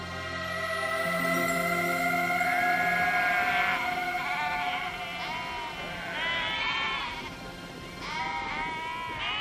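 Sheep on a sheep station bleat again and again, several wavering calls that overlap and come in clusters, loud and near, with no voices.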